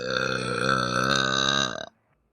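A girl lets out one long, loud, sustained burp with a strongly tonal, droning quality, lasting nearly two seconds before cutting off into near silence.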